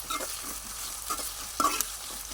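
Onion pieces frying in a pan until golden, a soft continuous sizzle broken by a few sharper stirring clinks and scrapes.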